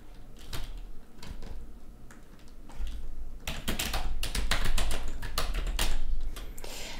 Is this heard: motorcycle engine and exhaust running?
no